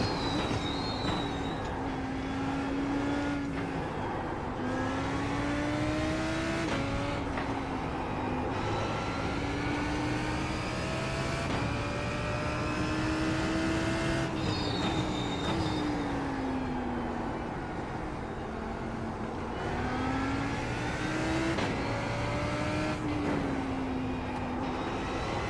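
Ford Mustang race car in a racing video game lapping Spa, its engine droning steadily with repeated rising and falling pitch sweeps through gear changes and corners, continuous and fairly loud throughout with no voices.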